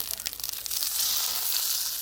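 Food frying in a pan over a Kelly Kettle outdoors, a steady close hiss and crackle with brief scraping or stirring sounds at first, settling into continuous sizzling.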